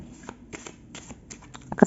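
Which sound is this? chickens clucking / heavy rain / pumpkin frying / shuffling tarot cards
shuffling tarot cards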